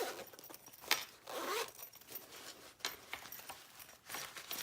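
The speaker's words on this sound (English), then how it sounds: "bag that zips right down" Zipper on a tote bag being zipped, heard as several short rasping zips and scrapes in quick bursts, close and fairly quiet, with no talk.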